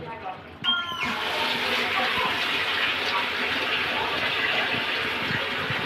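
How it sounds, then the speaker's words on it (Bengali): Water pours steadily into a pot of spiced vegetable khichuri, a continuous close gush and splash running for several seconds after a brief clatter at the start. "এখন আমি যতটুকু পানি লাগবে দিয়ে দেব।"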